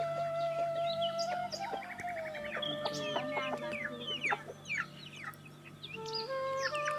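Several free-range village roosters, about eleven months old, cluck and call over one another in a busy, overlapping chorus, some close and some farther off, over a low steady hum.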